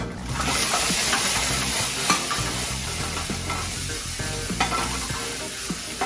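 Broccoli and garlic sizzle steadily in an olive-oiled frying pan, a continuous loud crackle with occasional sharper pops and stirring scrapes throughout.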